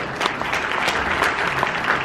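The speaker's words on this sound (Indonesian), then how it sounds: "Tepuk tangan dulu buat Mbak Imelda" Audience applause at a comedy talk session at the Ideafest festival, a dense, lively clatter of clapping hands filling the room without pause.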